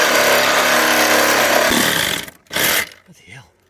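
Power saw cutting plates between roof rafters in a loft being prepped for a dormer conversion, a loud sustained motor drone that cuts off partway through, followed by a voice.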